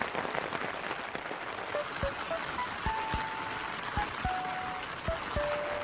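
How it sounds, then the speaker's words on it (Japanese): Heavy rain pours steadily outdoors near a bridge in Miyazaki, Japan, a dense hiss with scattered sharper drops and occasional louder taps throughout. "雨がなかなか止まない。"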